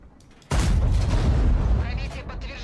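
The Object 277 tank fires its cannon in the World of Tanks video game, one sudden heavy boom that cuts in abruptly and rumbles on with a long, loud low-end tail.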